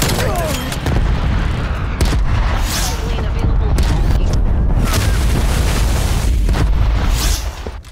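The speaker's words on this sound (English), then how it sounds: "Incoming artillery." Incoming artillery fire in a video game: repeated heavy booms and blasts hit in quick succession amid continuous rumbling battle noise, with a voice speaking over it.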